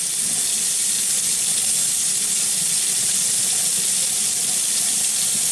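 Tap water rinsing a coin after electrolysis cleaning, a steady close hiss of running water that holds even for several seconds with no voices.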